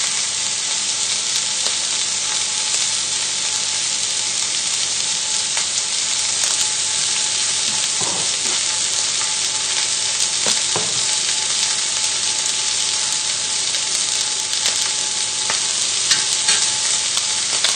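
Steak fries in a hot pan with a loud, continuous sizzle and crackle that stays steady throughout, with a few faint scrapes or knocks of a utensil in the pan.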